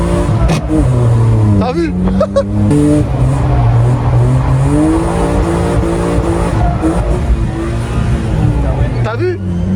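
A BMW E36 drift car revs loudly and close, its engine note rising and falling at a drift event, with tires scrubbing and squealing underneath; people talk over the noise.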